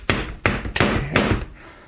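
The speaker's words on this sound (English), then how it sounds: "Never force it. Just grab a bigger hammer. Tap it, tap," Four sharp hammer taps ring out in a steady rhythm as a part is driven into a Parker bent axis hydraulic piston motor, each strike loud and close with a short metallic ring.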